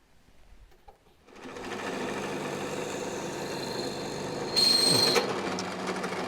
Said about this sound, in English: I'm going to drill a hole pretty well where it is